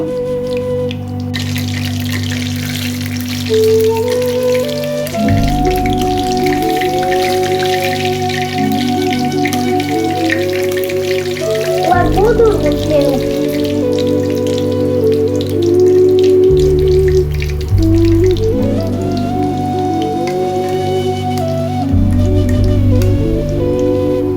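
Gulgula batter dropped by hand into hot frying oil, a steady bubbling sizzle running throughout with soft crackling bursts as each piece goes in, under background music.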